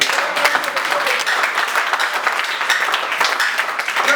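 A church congregation applauds loudly, a thick continuous burst of clapping mixed with some cheering voices, close and steady throughout.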